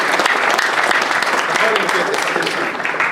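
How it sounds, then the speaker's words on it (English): Audience applause fills a Sacco management-policy launch meeting, a dense, steady clapping lasting a few seconds while a voice talks over it. "Clap your hands for him."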